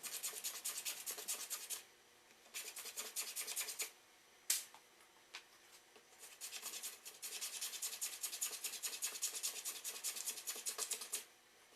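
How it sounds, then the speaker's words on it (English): A small block plane chamfers the edges of wooden handles, making repeated dry rasping strokes in close bursts separated by short pauses, with no voices. "I'll just use a small block plane and chamfer the edges."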